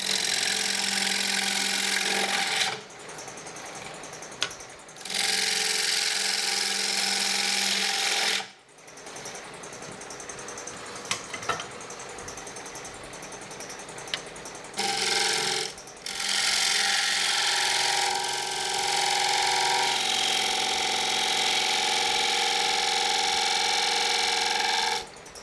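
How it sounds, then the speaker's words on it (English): A wood lathe turns a salad bowl with a loud, steady whining drone and a rough scraping edge, broken by several short pauses as it stops and restarts. "Why is the lathe making noises?"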